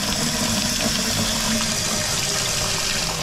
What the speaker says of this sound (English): I'll make sure it can take a rush of water.